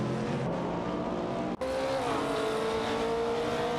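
Race cars roar along a track while overtaking, with a continuous loud engine drone and rising, shifting tones as the cars pass, interrupted once by a brief dropout.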